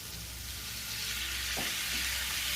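Chopped tomatoes go into a pan of sizzling shakshuka, a steady frying hiss with a brief stir or splash partway through, close and continuous, without voices.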